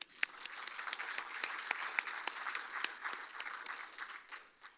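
Audience applause for contestants at the 2023 Miss Dale Fall Festival pageant, a steady spread of many hands clapping at moderate distance, with sharper individual claps standing out and no talk over it.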